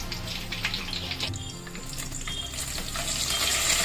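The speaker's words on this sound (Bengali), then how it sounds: "মশলার এই সিজলিং আওয়াজগুলো কি ভালো লাগে না?" Spices sizzling in hot oil in a kadai, cardamom, cinnamon, cloves, dry red chillies and bay leaves for coconut khichdi, giving a steady close hiss and crackle that builds slightly toward the end, with no talking.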